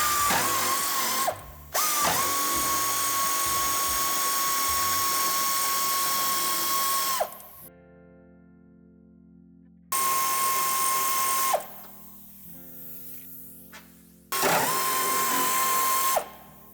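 A power tool loosening the bumper screws on a 2016-2025 Toyota Hilux during a tow hitch fitting, heard as loud, steady, high whining bursts of several seconds each, separated by brief ratcheting clicks and quieter pauses, with no talk.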